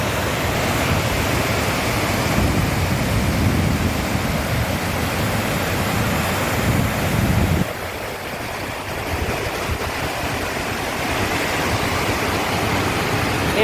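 A waterfall roars as a loud, continuous broadband rush, close and steady, dipping slightly in level partway through with no voices.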